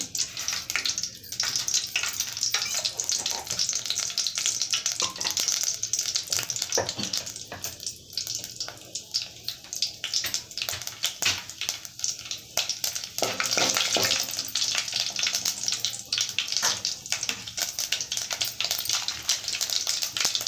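Tempering spices frying in a little oil in a pan for a Rayalaseema-style dried cowpea dal, a continuous crackling sizzle with spattering bursts and occasional stirring, close and fairly loud with no talk.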